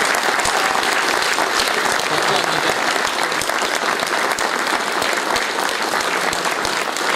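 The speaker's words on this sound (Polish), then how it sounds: "Niech ci ludzie, którzy nigdy na brawa nie liczą, dostaną ich teraz mnóstwo od Państwa." A ceremony audience applauds press photographers at a regional award presentation, with dense, loud clapping from a large crowd that holds steady for the whole stretch.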